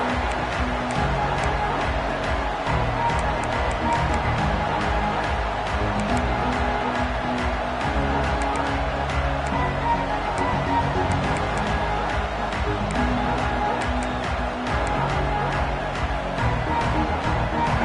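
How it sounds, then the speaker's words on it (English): A stadium crowd in a football video game holds a constant, dense roar of cheering and murmur throughout, with a commentator talking over it. "This crowd ready to make its presence known."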